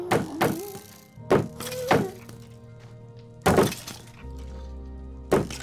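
A Minecraft skeleton fires arrows at the player in a hardcore game: about five sharp, thunking impacts at uneven intervals, some with a brief cracking edge, over faint steady game tones and a low hum. No one speaks.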